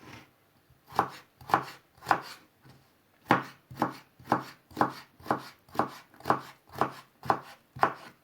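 A knife chops potatoes into small cubes on a board, about a dozen crisp, close strokes in a steady rhythm with a short pause after the first few and no talking.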